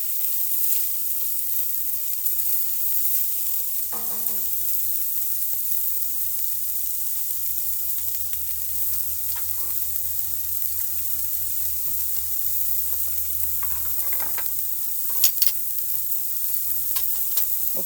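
Andouille sausage and scallops sizzle in a stir-fry pan on an outdoor deck, giving a steady, close frying hiss with a few brief stirring clatters partway through.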